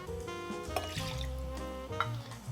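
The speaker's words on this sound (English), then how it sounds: "So I'm gonna add 2 ounces of our Canadian rye." Two ounces of 12-year-aged Canadian rye whiskey pour into a mixing glass for a Toronto cocktail, a soft steady liquid trickle with faint drips, close by, over a low background hum.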